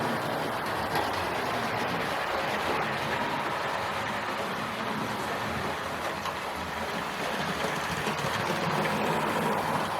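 Hornby Princess Margaret Rose R2559 model locomotive running smoothly, a steady, even motor whir and wheel hum continuing without a break at moderate loudness.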